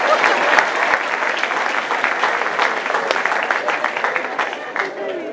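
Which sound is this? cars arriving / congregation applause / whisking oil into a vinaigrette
congregation applause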